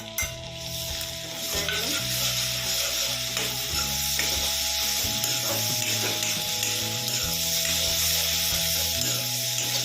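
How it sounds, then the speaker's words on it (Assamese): Food sizzles loudly and steadily in a hot pan, a dense crackling hiss with faint scraping from stirring throughout. "ভাজি লৈছোঁ"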